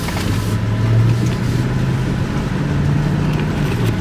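A truck bought at auction drives under a steady, loud engine drone heard from inside the cab, with a low rumble that shifts slightly in pitch as it pulls, and no talking.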